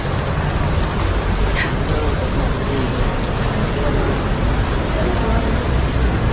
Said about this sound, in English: It's raining in Milano,